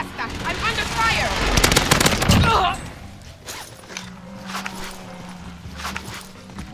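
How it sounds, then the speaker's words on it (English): Bursts of rapid gunfire from the video game Warzone Pacific crackle in a dense flurry, followed by scattered shots and footsteps, with a player's voice talking over the start. "I'm under fire"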